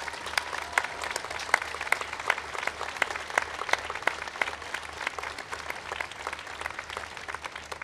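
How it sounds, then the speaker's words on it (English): Sustained applause from an audience at a festival procession concert, many hands clapping steadily with a few sharper, closer claps standing out over the dense crowd sound. "I just think you all deserve an amazing round of applause."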